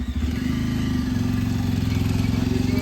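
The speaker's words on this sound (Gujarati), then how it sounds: "આ આપણા માણસો જો ભીખાનું બાઈક લઈ જાય" A motorcycle engine runs close and loud, a steady low throbbing idle with a regular pulsing beat that holds for the whole few seconds.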